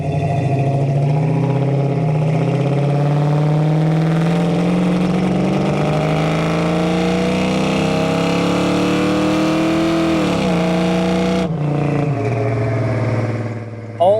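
A restored 1965 Ford Mustang with a 302 V8 revs hard under throttle on a test drive, its loud engine note climbing steadily in pitch, dropping sharply near the end and then rising again.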